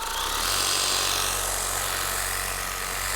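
A car polisher runs on the trunk lid of a new Avalon, a loud, steady motor whir with a constant hum and no break, close by.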